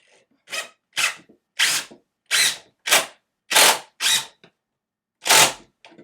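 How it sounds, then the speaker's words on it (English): A power drill drives a screw into a pilot hole in a craft shelf with eight short, sharp bursts in a steady stop-start rhythm and silence between them, loud and close. "I realize I need to go ahead and start my screw in the pilot hole I drilled."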